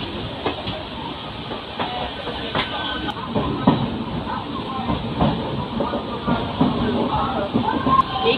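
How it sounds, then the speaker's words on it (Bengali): A local train rolls past at Kharagpur junction in a steady rumble with clattering wheels and scattered clanks, heard from on board another train with no speech. "আর ওই একটা লোকাল ট্রেন পাস হচ্ছে ওই যে।"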